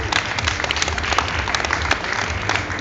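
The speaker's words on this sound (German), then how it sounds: "ich denke, das ist doch mal hier ein Original-Applaus wert" Audience applause during a Miss Grip beauty pageant in Hamburg, a steady dense wash of clapping with scattered sharper claps running throughout, fairly loud and without speech.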